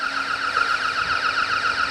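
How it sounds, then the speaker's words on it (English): An intruder alarm sounds in the reception area of an ice arena after a door is opened, a loud, continuous, warbling electronic tone that holds steady without pause or speech. "Someone's unfortunately just opened the door and the system's gone off. This is the sound you'll hear."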